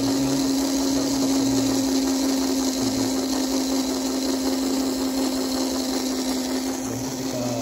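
An electric motor in a voltage, current and power monitoring control setup runs at medium speed, giving a steady, continuous hum with a constant tonal whine throughout, fairly loud and alone.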